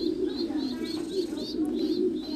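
A pair of pigeons raising young give a constant low cooing, overlaid with a regular series of high chirps, close and fairly loud.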